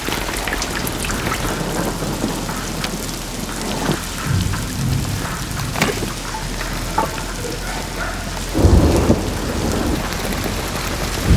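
Heavy rain pours steadily onto surfaces while thunder rumbles through, with deep low booms swelling twice amid the constant hiss of the downpour.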